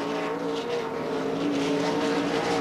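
K&N Pro Series stock cars racing at Montana Raceway Park, a continuous loud engine roar of several cars at once, sustained and close, with no break.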